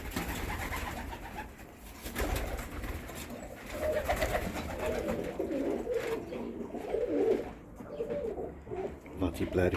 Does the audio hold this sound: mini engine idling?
no